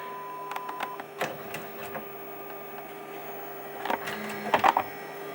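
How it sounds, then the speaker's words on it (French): Sony DHR-1000B VCR playback head running, a faint steady mechanical whir with low hum, punctuated by light clicks and small ticking bursts, close and quiet with no speech. "J'ai l'impression que tête de lecture fait plus de bruit"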